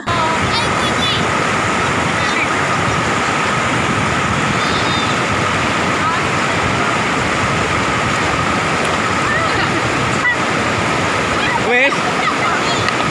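A river with a strong, deep current rushes past in a steady, loud broadband roar that sounds close and continuous, while people talk over it.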